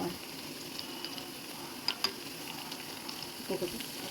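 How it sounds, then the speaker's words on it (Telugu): Flattened rice patties shallow-frying in a pan give a quiet, steady low sizzle with a few faint clicks and taps near the end, no voices. "రెండు వైపులో కూడా వేసుకుని కాల్చుకోండి గోల్డెన్ బ్రౌన్ కలర్ వచ్చిన కాల్చుకుని సరిపోతుంది"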